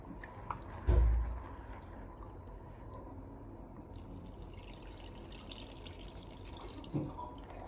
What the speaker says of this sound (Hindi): इसमें हम ऐसे इस तरह से पानी अच्छा से डाल करके और बढ़िया धो लेंगे।